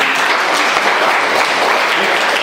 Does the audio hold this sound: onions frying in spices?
no